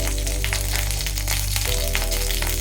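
Oil sizzles steadily in a pan while an ingredient fries for a paneer gravy curry, a close, continuous crackling hiss with no voices.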